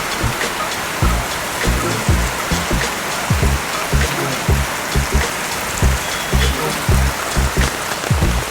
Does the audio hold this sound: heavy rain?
yes